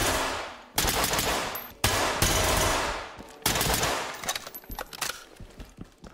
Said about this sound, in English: The shooting feels great.